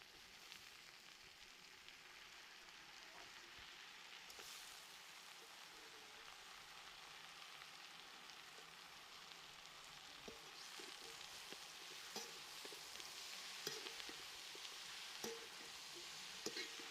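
Chicken pepper fry ingredients for nattukozhi, country chicken, sautéing gently in a pan over a low flame, a steady soft sizzle with faint crackles and occasional stirring scrapes, fairly quiet throughout.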